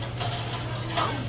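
Meat sizzles on a Korean barbecue grill with a steady, close hiss and crackle, plus a constant low hum from the grill or vent, without any talking.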